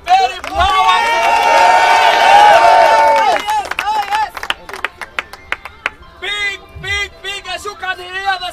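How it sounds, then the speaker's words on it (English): Large crowd celebrates outside a house, a loud swell of cheering and shouting voices for a few seconds, then scattered claps and excited calls continuing more loosely. "as you can hear, they are really celebrating."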